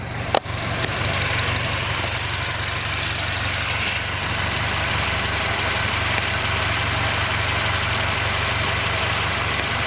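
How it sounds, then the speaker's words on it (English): A car engine idles steadily and close by, a low continuous rumble with a faint tick, with one brief knock near the start, while it runs during a check of the VTEC solenoid and oil pressure sensor gaskets. "The car's been running since we started"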